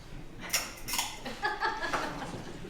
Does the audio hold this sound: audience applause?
no